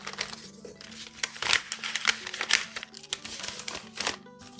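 Paper crinkles and rustles as cash is stuffed into a paper envelope, a run of soft crumpling bursts close by, fairly quiet, with no one talking.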